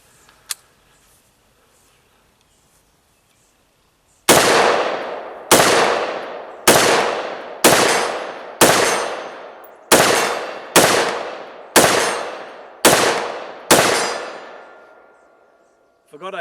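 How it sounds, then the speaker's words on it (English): A firearm fired in ten evenly spaced shots, each ringing off shootsteel.com steel targets downrange with a bright metallic clang that decays before the next, loud and close after a quiet opening. "Love to hear that noise hitting the shootsteel.com targets"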